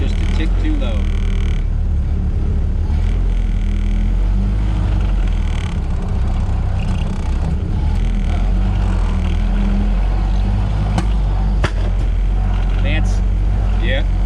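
An old Ford Model A garage-find engine idles low and rough just after its first start, a loud steady rumbling chug close by with people talking over it.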